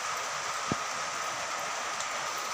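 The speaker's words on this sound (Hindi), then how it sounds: "आज बहुत जोर से बारिश भी आवत है" Heavy rain pouring down, a dense, constant hiss of water with one brief thud partway through and no voices.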